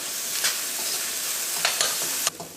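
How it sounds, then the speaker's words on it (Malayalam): Onion, ginger and garlic fry in hot oil with a steady close sizzle, broken by a few sharp stirring scrapes. "സവാളയും ഇഞ്ചിയും വെളുത്തുള്ളിയൊക്കെയും ഈ എണ്ണയിൽ കിടന്ന് നന്നായിട്ട് ചൂടായിട്ട്"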